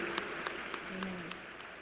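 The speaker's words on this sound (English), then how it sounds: "Please give them one more round of applause as they return to their seats" Applause at a university fall commencement ceremony, scattered sharp claps over a murmuring crowd, brief and somewhat distant, with a voice speaking over it.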